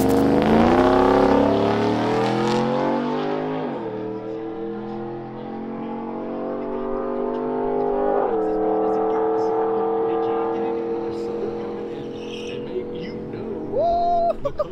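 Chevrolet Trailblazer SS on a drag racing run at Tulsa Raceway Park, its engine loud and close, revving hard and climbing through repeated gear changes before easing off near the end.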